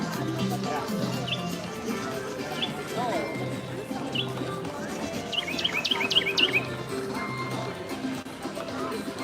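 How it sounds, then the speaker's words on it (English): A small bird chirps along the Tree of Life Trail at Disney's Animal Kingdom, giving a few isolated tweets and then a quick burst of rapid high chirps amid ambient park murmur and nearby talk. "it's that little bird right there making the noise."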